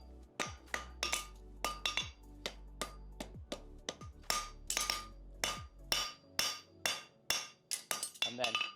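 A hammer forging a plain stamped front horseshoe: sharp ringing metal strikes in a steady, fairly quick rhythm, some in pairs, close by with a faint low hum under the first part.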